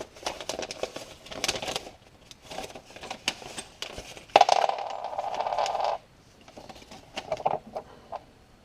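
Metal muffler bolts rattle and clink as they are handled while a muffler goes onto a Briggs and Stratton engine, with scattered small metallic taps, a loud bright jingle in the middle and softer clicks after, close and with no talk.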